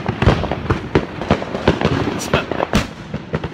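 New Year's fireworks on Oahu burst from every direction, a dense, loud, continuous crackle and boom of overlapping explosions with no pauses.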